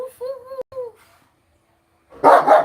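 An excited dog at New Year gives a few high whining yips, falls silent, then lets out two loud, close barks.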